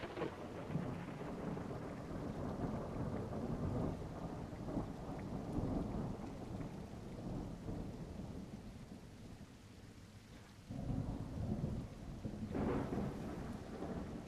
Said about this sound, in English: I think they changed the general sound of the rain.